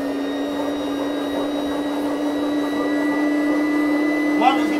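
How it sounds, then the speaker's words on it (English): A household vacuum cleaner runs close by in a steady, unbroken drone with a constant hum, a small knock near the end. "I'm going to vacuum for about 15 seconds"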